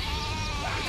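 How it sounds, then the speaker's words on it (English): Sheep bleating in the video game Overlord, a short, steady bleat filling the brief moment without any talk over it. "Kill the sheep!"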